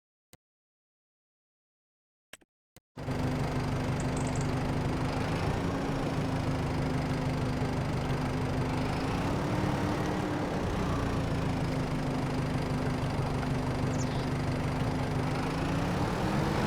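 Tractor engine in a farming video game, a steady low rumbling idle that starts abruptly after a few seconds of near silence and keeps droning evenly with a faint hum on top.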